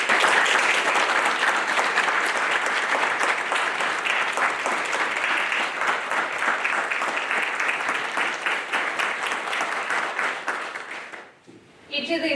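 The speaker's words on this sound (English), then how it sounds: "families join me in a round of applause for the Navy's newest third-class petty officers" Audience applause at a Navy graduation ceremony for new third-class petty officers, a loud sustained round of many hands clapping that fades out near the end before a voice returns.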